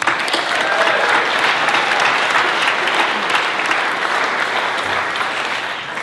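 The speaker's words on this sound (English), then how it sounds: "Let's give him an applause." A crowd applauds at a university startup accelerator pitch night, with sustained, loud, dense clapping that fades slightly toward the end and carries no speech.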